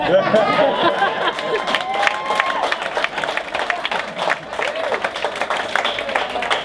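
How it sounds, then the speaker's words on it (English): A live audience breaks into applause and cheering at a comedy talk, dense clapping and crowd noise filling the whole stretch at steady loudness, with scattered whoops and murmuring voices mixed in. "Someone was starting an applause break."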